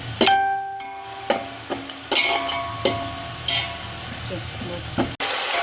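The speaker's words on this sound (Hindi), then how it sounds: "ये सारे मसाले मैं इसके अंदर ऐड कर दूँगी और हल्का से इसको फ्राई करेंगे" Whole nutmeg, mace, black cardamom, cinnamon and cloves frying with onions in a pot for keema pulao, giving a close sizzle and repeated knocks of stirring that fade toward the end.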